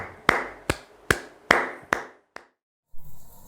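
A church congregation claps in welcome for the pastor at an online service, five sharp, evenly spaced claps and a final softer one, then a brief pause before faint room noise.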